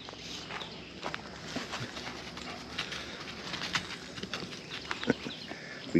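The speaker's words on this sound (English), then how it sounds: "Let my horse jump the fence here." Horse hooves thud on the ground in an uneven, rapid rhythm as the horse trots and jumps a fence, with scattered clops and scuffs over a broad outdoor background noise.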